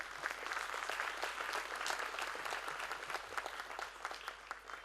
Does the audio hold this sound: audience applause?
yes